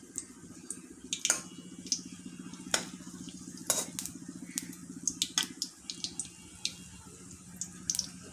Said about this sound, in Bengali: এখন আমি এই বড়াগুলো দিয়ে দিব তেলের মধ্যে